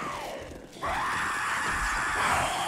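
Screamer zombie in the game 7 Days to Die letting out a loud, sustained shriek that dips briefly and then returns stronger, filling the clip with harsh, continuous screaming.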